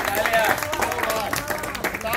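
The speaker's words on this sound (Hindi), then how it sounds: "तालियां बजती रहनी चाहिए।" Applause from a crowd at a birthday party gathering, steady dense clapping mixed with the murmur of a busy room throughout.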